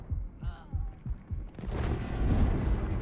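Rapid bursts of gunfire in Delta Force: Hawk Ops with heavy low thumps, followed by a dense, sustained roar of shooting and explosions.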